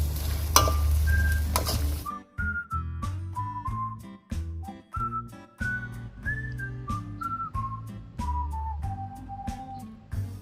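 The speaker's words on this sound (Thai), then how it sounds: "เอาคนให้เข้ากันก็สุกแล้วนะคะ" Long beans with pork belly and holy basil leaves stir-frying in a pan: a loud sizzle opens, then a steady run of scraping stirs and frying noise continues beneath a whistled melody.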